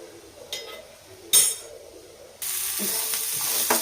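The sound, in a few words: frying curry ingredients in a little oil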